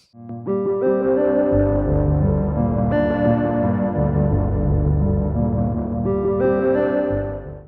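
A sustained synth tone plays through an Erica Synths Zen Delay with classic feedback routing, its repeating echoes blending into a thick, shimmering wash that swells and renews twice before fading.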